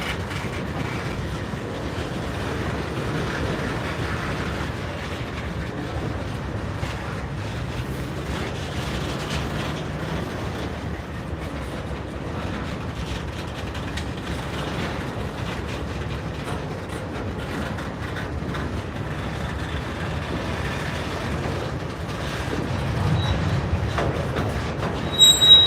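A Norfolk Southern train moves through a rail yard, heard as a faint, distant, continuous rumble with wheels squealing now and then and a brief louder clatter at the end.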